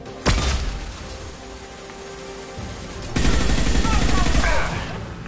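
Sustained assault rifle fire in the sci-fi shooter Mass Effect 2, opening with a sharp blast, then a dense, loud rattle of shots and impacts that swells again midway.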